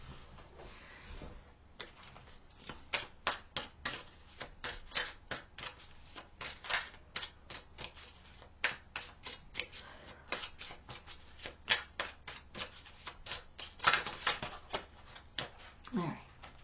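Tarot cards are shuffled in a steady run of crisp, close riffling bursts that repeat through the whole stretch, with no talking over them.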